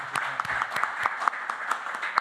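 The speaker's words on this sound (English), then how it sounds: "We give them a big hand of applause." Audience at a public hearing applauding the panelists, a brief run of steady, fairly close clapping with a faint voice underneath.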